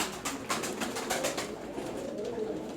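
Black karabaş pigeons cooing inside a coop, a soft murmuring chorus of repeated coos at close range, steady and moderately quiet with no talk over it.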